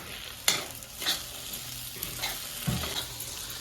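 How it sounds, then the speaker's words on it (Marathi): Grated corn mixture frying and being stirred in a pan, a soft steady sizzle with a few sharp scraping clicks of the spatula against the pan, close and moderately quiet with no talking. "आता ही जोपर्यंत लाल बरग होत नाही तोपर्यंत असं फ्राय करून घ्यायचं"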